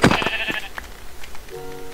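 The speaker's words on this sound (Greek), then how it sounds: "Δεν χρειάζομαι άλλα πρόβατα, σωστά" A sheep in the video game Minecraft gives a short, close bleat, followed by faint game sounds and a soft tonal chime.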